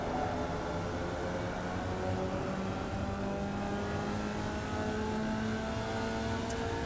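A Formula Vee race car engine on the Rudskogen circuit in the iRacing sim drones steadily, its pitch climbing slowly as the throttle opens, with no talking.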